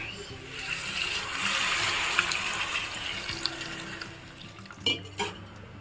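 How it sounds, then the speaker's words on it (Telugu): Water is poured into a cooking pot while preparing crab curry, a rushing splash that builds and then tapers. Clinks of metal cookware follow near the end. "దీంట్లో నేను వాటర్ వేస్తున్నానండి"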